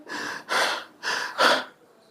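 A person imitates heavy panting, four loud rhythmic breathy gasps at steady intervals, close and alone with no talk.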